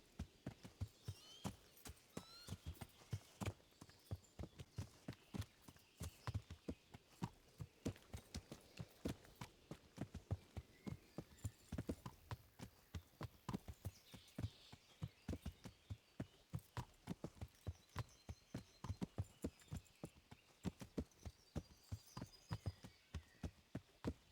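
Horse hooves clop in a steady, even walking rhythm throughout, crisp and close against a quiet background, in the video game Kingdom Come: Deliverance.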